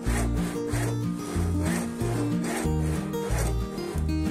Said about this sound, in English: For the tenon, I cut the soldiers with the saw and chisel the waist.